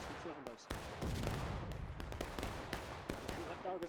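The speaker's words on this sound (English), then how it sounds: "They're doing volleys." Rifle volleys in the Civil War video game War of Rights, on the Flemming Meadow map, crackle as rapid overlapping gunshots, sharp and loud, with bursts of massed fire and scattered single cracks over a continuous battlefield din.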